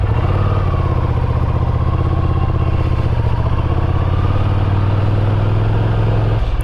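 A 2023 Ducati Scrambler Urban Motard motorcycle engine drones loud and close, steady and continuous with a slight rise and fall in pitch as the bike rides toward the city.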